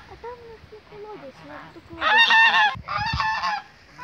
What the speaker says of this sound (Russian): гусей, смотри, сколько